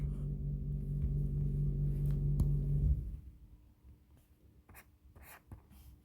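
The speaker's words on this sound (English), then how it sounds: "so let's write the answers there" A pen or marker writing answers on a board during a Grade 11 chemistry lesson makes a continuous close scratching and squeaking for about three seconds, then stops, leaving scattered soft taps and room noise.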